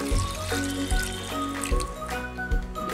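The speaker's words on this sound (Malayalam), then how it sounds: "ഇനി നമുക്ക് വെള്ളം ഒഴിച്ചു കൊടുക്കാം." Water is poured into a pressure cooker holding papaya with turmeric, chilli powder and salt, a close, steady gurgling splash with rhythmic glugging pulses about every second.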